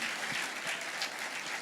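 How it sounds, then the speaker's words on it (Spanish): A church congregation applauds at an evening revival service, a brief burst of dense, even clapping heard at a moderate distance. "dale un fuerte aplauso a Cristo esta noche"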